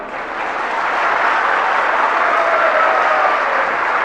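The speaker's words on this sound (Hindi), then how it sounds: "वो उत्साह तालियों से दिखाइएगा ना।" An audience at a live spiritual question-and-answer session breaks into sustained applause, a thick continuous roar of clapping that swells in the first second and then holds steady, loud and unbroken.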